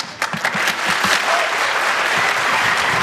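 Audience applause after a school performance, dense and loud crowd clapping that swells and holds steady throughout.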